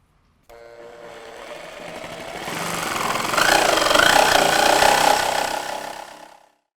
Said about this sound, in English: Now we go to the saw.